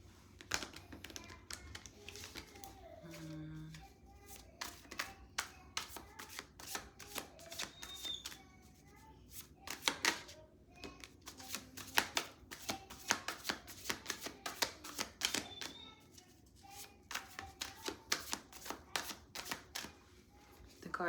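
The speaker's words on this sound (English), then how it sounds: "I'm gonna pull from my other tarot deck." A tarot card deck being shuffled by hand: a long, steady stream of crisp riffling and tapping card sounds, close and fairly quiet, with brief faint background noises between bursts.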